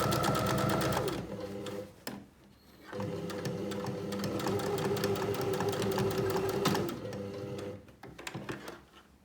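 A sewing machine stitches closed the gap in a tote bag, running in fast bursts of close needle clatter with short stops and clicks between them, steady and moderately loud.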